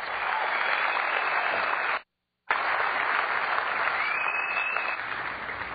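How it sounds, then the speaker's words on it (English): Thundering applause from a large audience greeting the Mac OS X announcement, a loud continuous wash of clapping broken by a brief cut, then resuming with a faint whistle-like tone over it. "This announcement was met with thundering applause."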